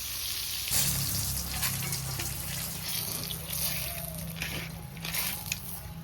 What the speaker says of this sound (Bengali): এই যে বেগুন ছেড়ে দিলাম তেলের মধ্যে, দুবারে বেগুনগুলো ভেজে সুন্দর করে লাল লাল করে ভেজে নেব।